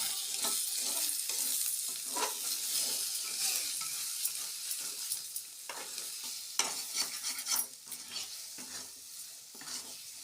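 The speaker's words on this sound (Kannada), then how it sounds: "ನೋಡ್ತಾ ಇರ್ಬೋದು ಹೇಗೆ ಮಿಕ್ಸ್ ಮಾಡ್ತಾ ಇದ್ದೀನಿ ಅಂತ" Egg burji, a spiced scrambled egg mixture seasoned with chilli powder, stirred in a sizzling pan, with repeated scraping strokes over a continuous fry hiss, close and steady with no voices.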